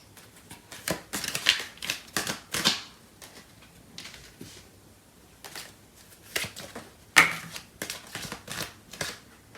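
Tarot cards shuffled by hand in close, quiet bursts of papery riffling and flicking, with soft taps and slides between them.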